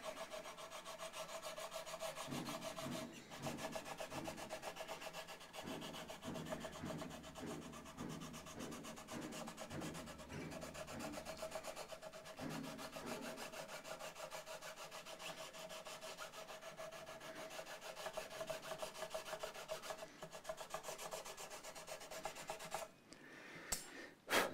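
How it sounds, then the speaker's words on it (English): Sandpaper rubbing back and forth over stainless steel frets on a Stagg PRS-style copy guitar during a re-fret, a steady rasping scrape with a quick rhythmic run of strokes early on, close and continuous with no talk. "So with stainless steel, the sandpaper does a pretty good job still, works well."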